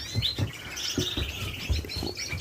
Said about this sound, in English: I'm feeding the birds.